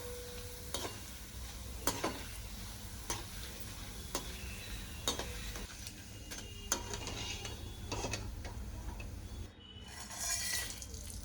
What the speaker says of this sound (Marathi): तेल तापले मी आता बटाट्याचा किस तळून घेते